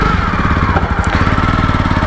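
A Jawa Perak motorcycle engine runs close by with a loud, steady, fast-pulsing single-cylinder thump, an even rhythmic chug throughout with no voices.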